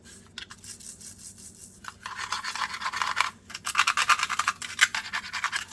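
Dried, hollow Hatch chiles rustle and crackle crisply as they are handled up close, with bursts of dry scratching that grow denser and louder toward the end.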